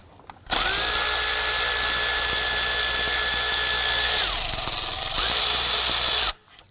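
A power tool whirs steadily up close, loosening 10mm bolts on a 2003–2014 Volvo XC90 engine near the AC compressor, running for about four seconds, dipping briefly, then spinning again before cutting off.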